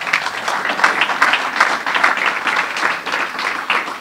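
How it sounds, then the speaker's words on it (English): An audience applauds volunteers at a scholarship event for young achievers, a steady, dense wash of many hands clapping that holds at an even level throughout, with no voices over it. "Please give them a round of applause."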